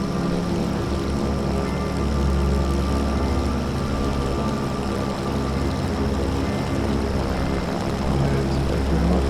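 Cessna C414 twin-engine propeller plane droning steadily in a flight simulator game, a dense continuous engine hum and whir holding at constant loudness throughout with no pauses.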